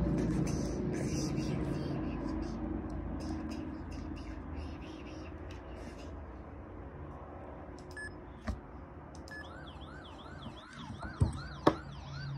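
A loud emergency vehicle siren in the Roblox game Emergency Response wails continuously across the whole stretch, with warbling electronic tones rising and falling near the end and a couple of sharp bangs.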